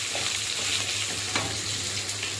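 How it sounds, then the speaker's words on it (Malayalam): Chopped garlic and ginger fry in a hot pan, giving a dense, steady close sizzle with faint stirring scrapes, no voices. "അപ്പോൾ ഇതിനകത്തേക്ക് ഒരു 3 അല്ലി വെളുത്തുള്ളി, ഒരു കാൽ പീസ് ഇഞ്ചിയും കൂടെ അരിഞ്ഞിട്ട് കൊടുക്കാം. ഇളക്കി നല്ല മൂപ്പിച്ച് എടുക്കണം."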